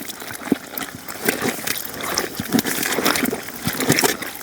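Water sloshes and splashes in a container as cut eggplants are rinsed by hand, with irregular trickles and small splashes throughout.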